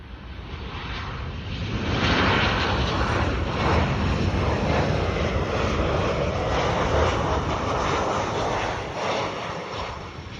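A United Airlines Boeing 737 lands at George Bush International Airport, its engines a steady, loud roar that builds after the first two seconds and holds broadband and close for the rest of the pass, with no talk.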